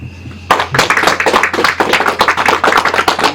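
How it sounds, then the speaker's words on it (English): A small group at a Brazilian jiu-jitsu class claps loudly and briskly after a training session, a burst of close, dense applause that starts abruptly and keeps going. "Round of applause."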